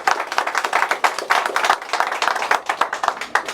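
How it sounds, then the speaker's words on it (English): A small audience at a Black author summit in a bookstore gives a round of applause, with distinct individual claps in an uneven, close rhythm from only a modest number of hands. "Let's give them a round of applause for hosting us today."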